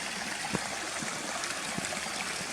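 A stream flowing below Cotter Force waterfall on a hot day, a steady broadband rushing of water with faint gurgles, fairly close and even in level, with no voices.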